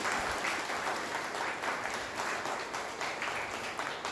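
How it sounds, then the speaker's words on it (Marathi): An indoor audience at a legal talk in Nanded claps loudly in honour of a lawyer, a dense, continuous round of applause that holds steady throughout with no pause. "एकदा वकील साहेबांच्या सन्मानात सर्वांनी जोरात टाळ्या वाजवा."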